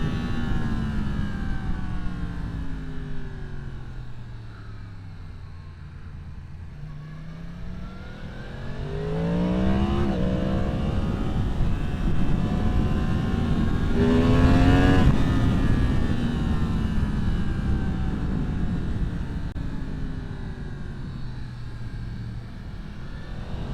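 A 2023 Yamaha MT-10 motorcycle with its stock exhaust roars steadily while riding, its pitch sweeping up and down through repeated accelerations and shifts, loud and continuous with no talking.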